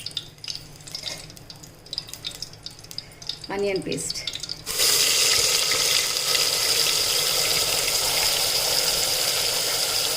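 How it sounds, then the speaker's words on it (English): Onion paste dropped into a hot pan of frying mutton, a quiet spell and a brief clatter before a loud, sudden burst of sizzling that holds as a steady bright hiss, with a voice faintly present early. "Now to this I am going to add onion paste."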